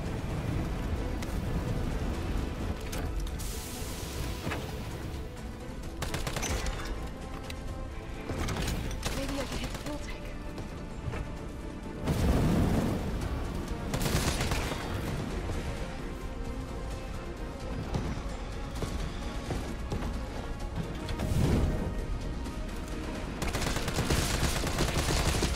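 Pistol gunfire in the video game Resident Evil 3, with several sharp shots scattered through a dense, continuous bed of game noise and rumble.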